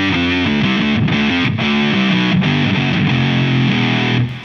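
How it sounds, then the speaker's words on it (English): A sustained electric guitar through a Boss GT-1 processor with a thick, wavering modulated tone, doubled lower octave from an octaver and echoing delay repeats, played continuously and loud without pause. "It's turning on a modulation effect, an octaver, and some delay."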